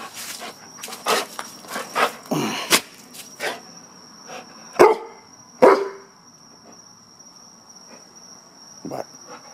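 A few sharp dog barks ring out amid scattered rustling and thuds, with a steady insect-like whine humming in the background.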